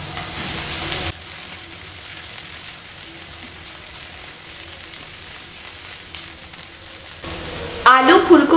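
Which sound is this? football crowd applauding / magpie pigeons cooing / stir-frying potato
stir-frying potato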